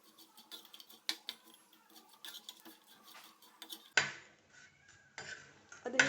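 Small dry fish are turned in a frying pan with a utensil, producing faint scattered clinks and scrapes, then a louder sizzling hiss of frying that rises with further stirring.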